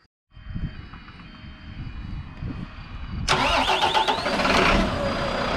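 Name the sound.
engine starting normally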